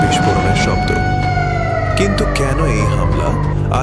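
Air raid sirens wailing across Tel Aviv and Jerusalem during an Iranian missile attack on Israel, with steady rising and falling tones running loud and continuous under other dense sound throughout.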